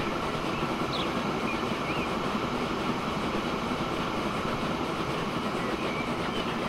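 A train riding on rails in the video game Transport Fever 2 gives a steady, loud rolling rumble with a faint clickety-clack, continuous throughout with no talking.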